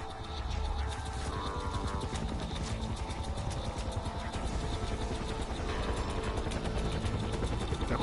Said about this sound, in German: Da kommt ein Hubschrauber.